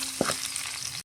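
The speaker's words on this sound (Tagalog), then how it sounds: "Yung nagprituhan ko ng tilapia, paggigisaan ko ng bawang sibuyas." Garlic and onion sautéing in oil left over from frying tilapia give a short, steady sizzle with a brief stir or clink near the start and no talking.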